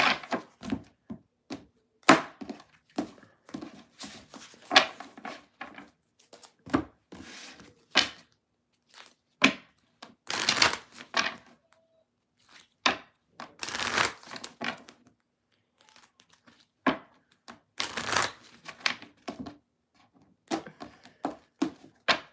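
Tarot cards being shuffled by hand during a live Valentine's week-ahead reading, heard as bursts of papery riffling and soft slaps that come in irregular clusters with short pauses, close and fairly quiet, with no talking.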